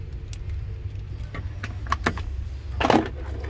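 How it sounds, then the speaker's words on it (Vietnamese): A remote-control key and spare keys for a JAC A5 truck jangle in a few light metallic clinks, then a louder burst of rattling near the end, over a steady low cabin hum. "hai chìa khóa sơ cua và một chìa khóa điều khiển từ xa"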